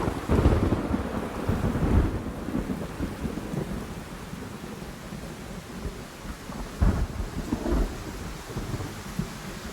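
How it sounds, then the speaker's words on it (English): Distant thunder rumbles low and rolling over a steady wash of rain, with heavier swells of thunder near the start and again later in a layered storm ambience. "There is an ending thunder as well."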